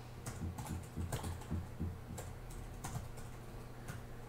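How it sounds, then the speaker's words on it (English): Someone types on a computer keyboard, producing bursts of quick, irregular key clicks and clacks at close range, running continuously without any voices. "I think Marty is typing the same thing I am speaking"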